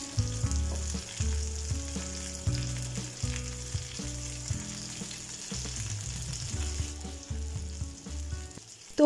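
Chicken sizzles steadily in a pan with honey soy sauce, a continuous frying hiss running under a background music bed for the whole stretch.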